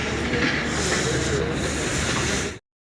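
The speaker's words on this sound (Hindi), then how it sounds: "ये सादकाबाद रेलवे स्टेशन है" A train rumbles at Sadiqabad railway station in Pakistan, a loud, steady rushing roar with faint clatter that continues without a break for over two seconds and then cuts off abruptly.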